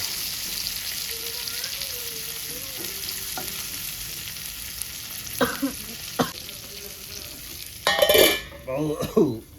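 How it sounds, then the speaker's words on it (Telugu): Fish frying in a pan with oil sizzling steadily, a soft constant hiss, then louder bursts of stirring and spatula scraping near the end. "ఇది కూడా ఫ్రై అవుతుంది."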